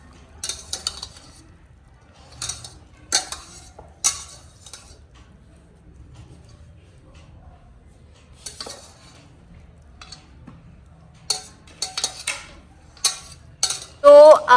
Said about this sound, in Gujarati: અને હવે આને બધાને પ્રોપર મિક્સ કરી લઈશું આપણે